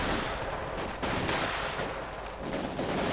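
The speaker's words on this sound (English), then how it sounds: "Countryman there goes to the Grenadiers, tearing up with some machine guns." Rapid machine gun fire from a Company of Heroes 2 battle between Panthers and grenadiers, a dense continuous clatter of bursts filling the whole stretch, loud and close with no gaps.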